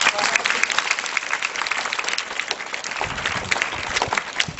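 A school audience claps steadily for a student who came first in a state-level race, producing dense crowd applause that keeps going for a few seconds at moderate loudness.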